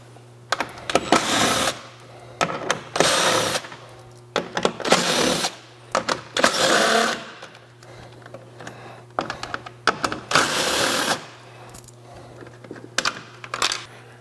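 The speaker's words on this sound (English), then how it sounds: "There's 5 screws you can see here on each side that we have to pull out." Screws coming out of a 2015 Chevy Suburban grille: a series of short whirring driver bursts with clicks between them, close and moderate over a steady low hum, no talk.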